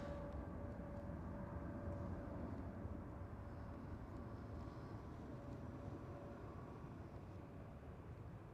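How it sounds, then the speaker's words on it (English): A KLM Boeing 777 with General Electric GE90 engines departing Schiphol, a faint, distant jet rumble with a steady whining tone, slowly fading as it climbs away. "it is a KLM 777, so it must be the General Electric GE90 engines"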